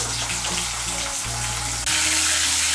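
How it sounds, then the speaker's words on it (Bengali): Chopped medium tomato frying in oil with panch phoron, a steady dense sizzle over a low background hum that grows louder and brighter near the end. "এর মধ্যে আমি দিয়ে দিচ্ছি একটা মাঝারি সাইজের টমেটো কুচি।"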